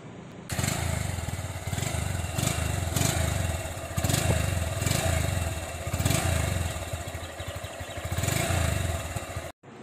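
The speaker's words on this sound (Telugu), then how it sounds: "ఒకసారి మనం బండి ఎగ్జాస్ట్ సౌండ్ విందాం." A Honda Hornet 2.0 motorcycle's exhaust burbles at close range, with a steady rumbling idle broken by several short throttle blips and revs before cutting off abruptly.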